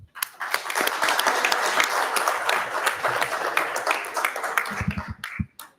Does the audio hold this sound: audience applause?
yes